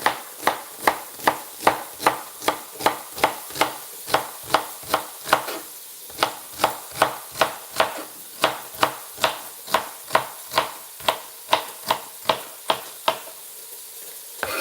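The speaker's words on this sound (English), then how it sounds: "I'm gonna chop some celery fast now" Celery stalks are chopped fast with a knife on a cutting board for cabbage soup, a loud, close, even series of about thirty sharp chops with no talking.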